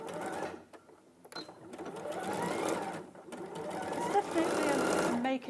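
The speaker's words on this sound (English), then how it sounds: "I'm now going to sew the side seam together" A sewing machine stitches a garment's side seam in quick, rattling runs with brief stops between, while a person talks over the steady mechanical chatter.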